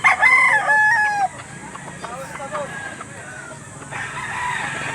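A rooster at the Lipa livestock auction market gives one loud, close crow in the first second, followed by fainter clucks and bird calls over steady crowd murmur.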